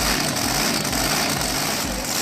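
A very loud modified 677.4 cubic inch alcohol-fuelled engine on a homebuilt boat roars continuously up close, with a pulsing low rumble and dense broadband noise and no talking.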